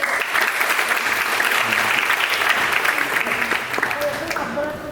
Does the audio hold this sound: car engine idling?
no